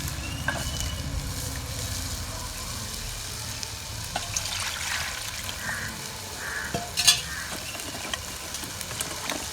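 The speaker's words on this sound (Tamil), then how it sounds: "இது நம்ம வீட்டு கருவாடு" Dried fish sizzles and crackles quietly in a hot pan, with a soft steady hiss and occasional sharper pops and stirring sounds.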